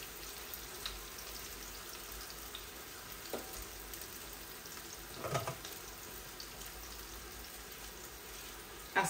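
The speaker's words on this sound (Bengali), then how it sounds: "এই আমার মাছটা বসিয়ে দিলাম" Rohu fish sizzles faintly in a pan, giving a low, steady frying hiss with a few soft clinks and scrapes rising briefly above it.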